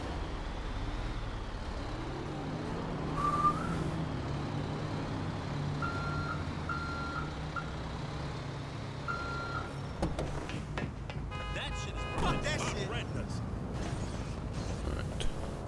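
A truck in the game GTA V Online reverses with a faint, evenly spaced beeping alarm over a steady engine drone, plus creaks and clunks, and no talking.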